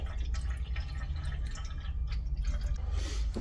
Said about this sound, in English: I found a bucket with some demineralized water. So we're just gonna about half fill this reservoir.